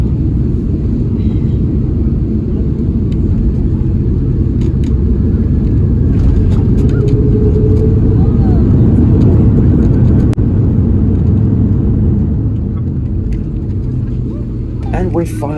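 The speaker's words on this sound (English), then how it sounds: "it looks like we are now getting ready to touch down at New York John F. Kennedy Airport" Passenger airliner touching down at New York JFK Airport after a long flight, a loud steady cabin rumble and engine roar with a sharp thump of touchdown, continuing throughout.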